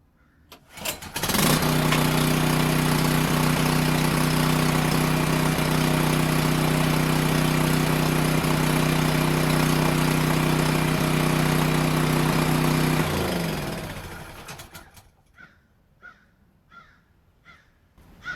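A Sportsman GEN4000TRI generator on natural gas catches on one pull and runs at a loud, steady drone for about twelve seconds, then winds down to silence, followed by a few crow caws in the distance.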